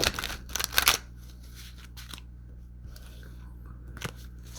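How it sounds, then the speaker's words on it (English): Tarot cards riffled and shuffled by hand in a quiet room: a dense burst of crisp papery crackles up front, then faint scattered card taps and slides. "One more shuffle."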